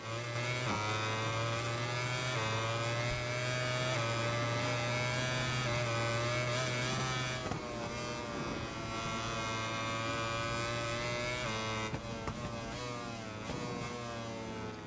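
Motorcycle engines race in MotoGP 21 game audio, a loud sustained whine that rises and falls with gear changes and throttle, steady engine tone running throughout with shifts around the middle and near the end.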